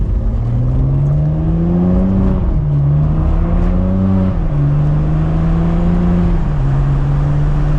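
Ferrari 599 V12 engine accelerating hard from inside the car, a loud rising drone that drops at each quick gear shift, three shifts in turn.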